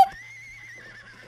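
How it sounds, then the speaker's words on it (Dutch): A horse whinnies once in a horse-riding video game, a short nasal call that starts sharply and trails into a steady, moderately loud tone with no talk over it. "ik heb een paard hier in mijn hand"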